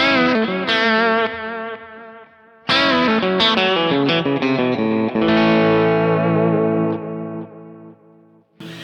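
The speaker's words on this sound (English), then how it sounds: "I know what a delay sounds like with a guitar" Electric guitar chords and notes through a Kemper with a delay effect, ringing out with repeating echoes trailing behind, spacious and sustained, played alone at moderate loudness.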